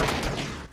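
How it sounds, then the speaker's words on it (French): Rapid gunfire in a video game forms a short, dense burst of overlapping shots, loud and close. "Je tire entre ses jambes."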